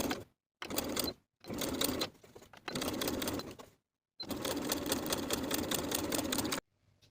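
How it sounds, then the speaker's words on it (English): A sewing machine topstitches the folded edge of a fly piece on wide-leg pants. It runs in several bursts of fast, even stitching with short pauses between them and one long final run, close and quiet. "I'll top stitch the folded edge in place from the right side of the fabric"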